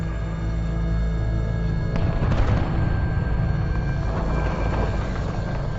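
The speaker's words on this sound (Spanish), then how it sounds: "Una explosión masiva libera una radiación equivalente a 10 bombas nucleares." A massive explosion at reactor number 4 of the Chernobyl nuclear plant in Ukraine roars with a loud, continuous low rumble that swells heavily partway through and keeps thundering.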